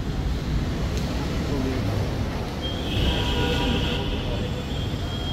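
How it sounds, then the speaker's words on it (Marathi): A metro train rolling near Deccan Gymkhana gives a steady, loud rumble of wheels and carriage noise, with a thin metallic squeal rising partway through. "मेट्रोमध्ये आम्ही चाललेलो आहे फिरायला"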